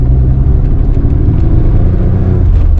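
A 1986 Nissan 300ZX engine runs loud and close as the car accelerates, a heavy continuous low rumble with a slight rising strain throughout.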